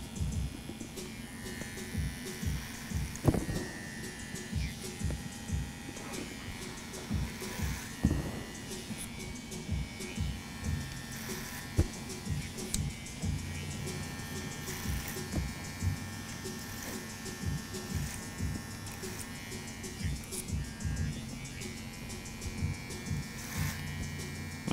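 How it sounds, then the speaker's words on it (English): Electric hair clippers buzz steadily through a clipper-over-comb cut on the sides of long hair, with repeated short bursts and clicks as the comb passes, fairly close and continuous. "We're gonna take off the all this bulk here on the sides. And some clipper over comb action."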